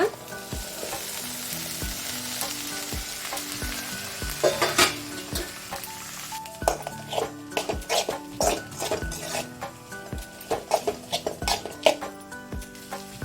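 Steamed cluster beans fry in a hot pan with a bright sizzle, followed by a run of sharp metal spoon clinks and scrapes against the pan, close up and without talk.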